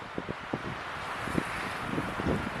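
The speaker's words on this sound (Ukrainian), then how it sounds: "Тут такий вітер зараз, що просто капець." Strong wind roars steadily across the microphone on a mountain ridge in the Carpathians, buffeting it with gusts, along with a few soft thumps and rustles.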